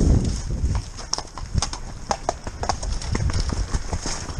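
Horse hooves clip-clop in a steady, quick rhythm at a bloodhound hunt meet in the countryside, fairly close and continuous, with occasional faint voices and a brief whinny in the background.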